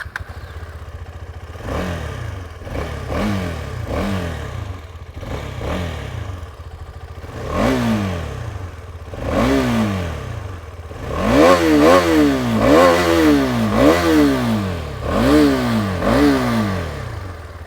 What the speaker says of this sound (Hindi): एग्जॉस्ट यहाँ पर जैसा कि आप एक्सपेक्ट करेंगे शायद कुछ अलग हो 390 से, तो मैं आपको ये एग्जॉस्ट सुना देता हूँ।